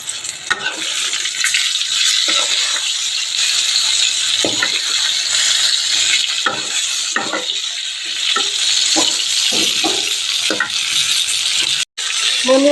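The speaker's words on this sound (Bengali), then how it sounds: "এই দেখো বেগুন ভেজে নিচ্ছি।" Eggplant slices frying in oil in a kadai give a steady, close sizzle throughout, with occasional stirring scrapes and light clinks of a utensil against the pan.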